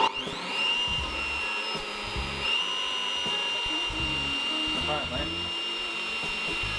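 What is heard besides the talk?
Bosch PBD 40 bench drill press drilling with Forstner bit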